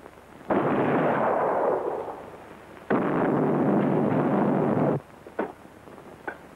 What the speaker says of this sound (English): his ship will fire on the castle every hour